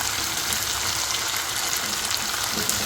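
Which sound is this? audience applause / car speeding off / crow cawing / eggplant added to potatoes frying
eggplant added to potatoes frying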